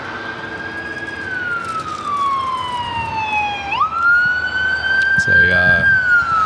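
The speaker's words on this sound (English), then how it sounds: "ambulance down below us on Imperial Highway." Ambulance siren on Imperial Highway near LAX airport, heard from above: a loud wailing tone that sweeps slowly down then jumps back up, with road traffic beneath and a brief voice near the end.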